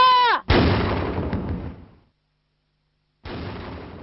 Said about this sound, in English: Now your turn, Whitworth. Fire when able